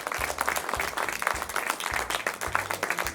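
A group breaks into applause, a moderately close crackle of many hands clapping that continues steadily for a few seconds, with a low rhythmic thumping underneath.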